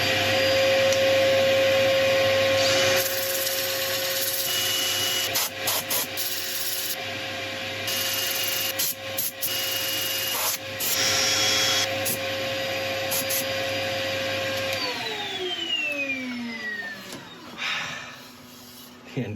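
A wooden bowl being sanded on a lathe, with abrasive rubbing against the spinning wood over a steady whirring drone, close and continuous before the machine winds down near the end.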